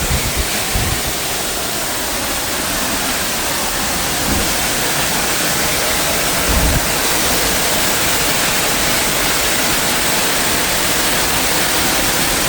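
A waterfall at Wells Gray in British Columbia heard from behind the falls, a loud, unbroken roaring hiss of pounding water and spray, close and enveloping, with occasional low thumps and no voices.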